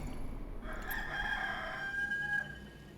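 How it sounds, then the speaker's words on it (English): A rooster's crow from the Warcraft 3 game sounds out over continuous game ambience, a drawn-out rising and falling call that lasts about a second and a half at moderate loudness. "I could hear the rooster from Warcraft 3"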